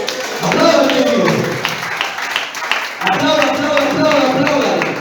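A church congregation applauds during a Spanish-language sermon, steady clapping running beneath a loud, sustained voice speaking or shouting over it.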